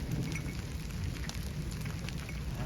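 Rain mixed with hail pours down in a village under a darkened sky, a dense, steady wash of drops drumming on surfaces nearby, loud and constant for the whole short stretch.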